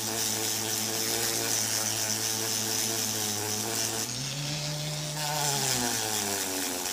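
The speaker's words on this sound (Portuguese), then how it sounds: "então aqui eu vou lixando e arredondando essa lateral para ficar bem confortável" A steady whining power sander grinds continuously against the edge of a metal bracelet made from an old coin, its pitch dipping briefly midway as it presses against the work, loud and close.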